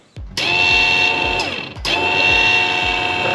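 A Vevor HD-10 rotational welding positioner powers on with a click and settles into a loud, steady motor whine with a clicking gear rhythm, which dips briefly as the speed shifts and then resumes.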